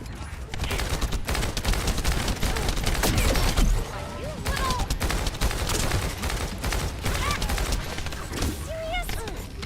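A light machine gun fires in a video game shooter, rapid sustained automatic bursts rattling on and on, loud and close, with a person talking over the gunfire.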